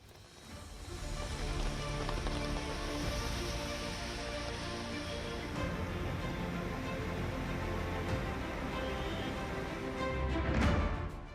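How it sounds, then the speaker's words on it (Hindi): Heavy rain pouring steadily in Delhi, a dense, continuous wash of noise that swells slightly near the end. "भारी बारिश से दिल्ली पानी पानी।"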